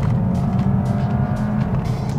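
A Vauxhall Astra plug-in hybrid launches from a standstill in sport mode on a flat stretch, giving a close, loud, steady drive roar with tire noise and no talk.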